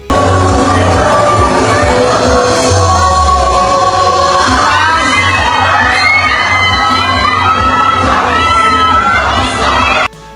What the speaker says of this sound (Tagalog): hiyawan ang mga tao habang mabilis na dumaan si Bia